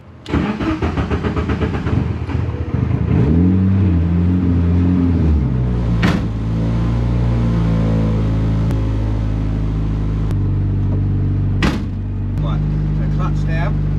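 A Renault Clio Cup race car engine with a sequential gearbox idles with a deep steady rumble, then rises in pitch as it is revved, with sharp clicks and mechanical noises over the running motor.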